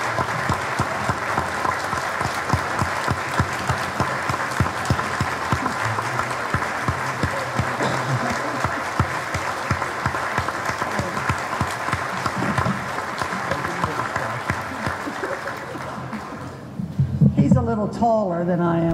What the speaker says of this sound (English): Mrs. Kendall, a humongous round of applause,